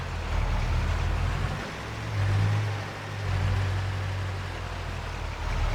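An old tractor that has sat for a while on an abandoned homestead idles to burn off stale fuel, its low rough engine rumble rising and falling steadily and close.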